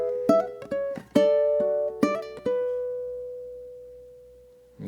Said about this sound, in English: we're doing a cool little hammer-on pull-off lick